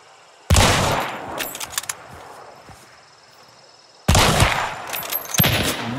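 Gunfire in a first-person shooter video game comes in two loud, abrupt bursts several seconds apart, each trailing off into quieter rattling and ambience.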